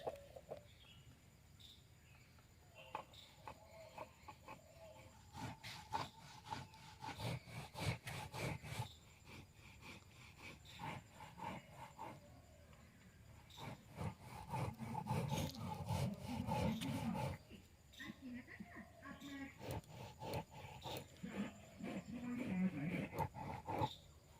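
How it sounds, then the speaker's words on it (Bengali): Spices being ground by hand on a traditional shil grinding stone, a rhythmic rasping scrape of stone on stone in repeated strokes at close range, with a dog and a rooster faintly in the background and someone talking at times. "আর শিলে গুঁড়ো করব খুব ভর করে গুঁড়ো হয়ে যাবে"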